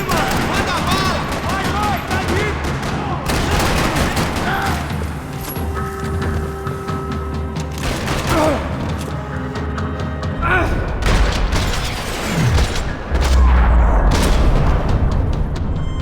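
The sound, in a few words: gunfire in parking lot, Max Payne 3 video game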